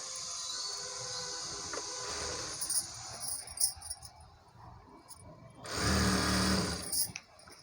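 Sewing machine stitching saree cloth that is being made into a long frock, running in two short bursts of fast whirring with quieter handling noise between them.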